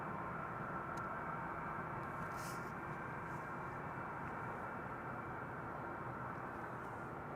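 A Boeing 777 freighter of China Cargo Airlines, arriving at Amsterdam Schiphol from Shanghai, passes as a steady, loud, continuous broadband jet roar with no break and no talk.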